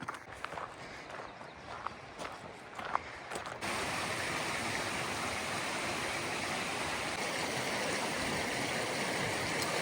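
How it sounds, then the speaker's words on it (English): Crunching footsteps on a Continental Divide Trail hike give way to a sudden, loud steady rush of a big waterfall that fills the rest of the clip. "Directly from the waterfall"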